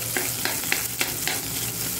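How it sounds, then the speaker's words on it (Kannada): Ginger garlic paste frying in hot oil for mutton liver pepper fry, a steady close sizzle with rhythmic stirring scrapes about every quarter second, no voices. "ಶುಂಠಿ ಬೆಳ್ಳುಳ್ಳಿ ಪೇಸ್ಟು ಎಣ್ಣೆಯಲ್ಲಿ ಸ್ವಲ್ಪ ಫ್ರೈ ಮಾಡಿಕೊಡಿ,"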